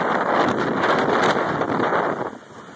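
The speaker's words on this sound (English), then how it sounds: "the wind is stopping us" Strong wind buffets the microphone on a muddy trail, a loud steady roar that eases off near the end.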